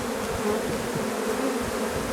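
Honeybees swarming around a hive make a continuous, dense, close buzzing drone that stays steady and even throughout, with no voices.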